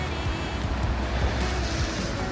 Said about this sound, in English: It's absolutely pouring of rain out here